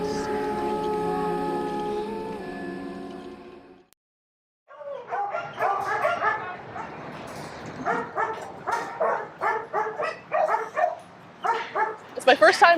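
Dogs at an animal shelter bark and yip in repeated bursts, some loud and close, following a stretch of a voice talking that gives way to a brief silence.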